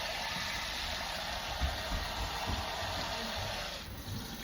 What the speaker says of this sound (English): And that is the perfect amount of water for my rice.